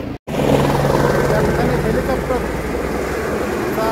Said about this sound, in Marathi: हेलिकॉप्टर आलेला आहे